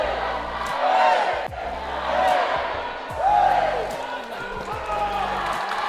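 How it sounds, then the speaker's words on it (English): Austrian foam mixed dodgeball team chanting and cheering at the Dodgeball World Championships in Graz, with rhythmic crowd shouts rising in repeated waves, loud and close, and a few voices calling over the chant. "letting you enjoy this chant and cheer from the Austrian team"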